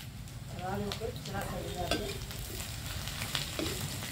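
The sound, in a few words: vegetable curry sizzling and burning in a pan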